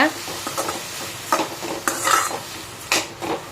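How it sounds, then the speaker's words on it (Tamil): Brinjal being stir-fried with onion and tomato in a pan, with repeated scraping stirs and soft sizzling, plus clinks of a spoon against the cookware, close and without talk. "அந்த கத்திரிக்காயை எடுத்து போடுங்க வெங்காயம் தக்காளியில் போட்டு அதையே நல்லா வந்து வதக்கி விடுங்க"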